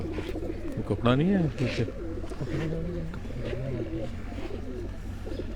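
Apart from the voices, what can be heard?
pigeons cooing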